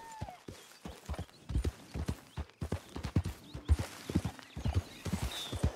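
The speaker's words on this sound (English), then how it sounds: "Let's jump on my horse." A horse's hooves clip-clop steadily in the Red Dead Redemption 2 video game, coming as an uneven run of soft thuds at moderate volume with a brief whinny near the start.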